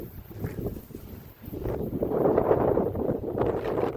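Gusty wind buffets the microphone with low rumbling roar, rising and swelling in strength through the second half, no talking.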